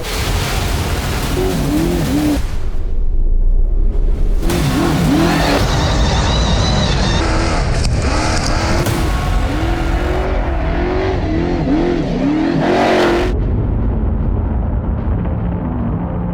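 An off-road motorbike ridden hard over bumps during suspension testing, its engine loud and close, revving and dropping in surges throughout with a continuous roar and brief pauses between throttle bursts.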